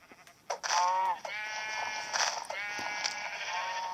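Sheep in the Minecraft video game bleat several times in a row, nasal and wavering, fairly loud and close with a steady digital backdrop and no talking over them.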